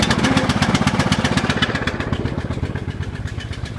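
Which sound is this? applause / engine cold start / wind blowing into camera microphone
engine cold start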